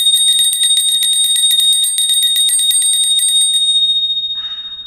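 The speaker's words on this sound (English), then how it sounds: "So I'm gonna clear the air with my bell." A small bell rung rapidly over and over, a bright trilling ring for about three and a half seconds, then left to fade out; loud and close, with no talking.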